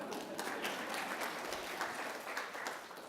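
A small conference audience applauds a presenter at a governance, risk and compliance open day, a soft, even patter of many hands heard from a distance with no talk.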